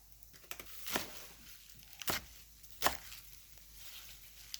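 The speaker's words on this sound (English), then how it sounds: "now I'm going to slice up some spinach, a big handful" A knife chops through a big handful of spinach on a cutting board, three distinct crisp chops spaced about a second apart, close and moderately quiet, with soft rustling of leaves between strikes.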